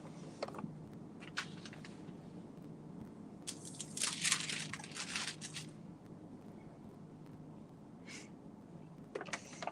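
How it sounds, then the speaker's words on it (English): A sewing machine runs stay stitching along the seams of a Simplicity S8014 shirtdress, giving a close, steady mechanical whir that swells into a louder burst of rapid stitching midway, with faint clicks before and after. "So we're gonna just do some stay stitching."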